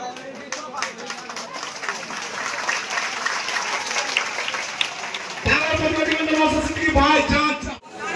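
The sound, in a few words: crowd applause welcoming Bhaijan at rally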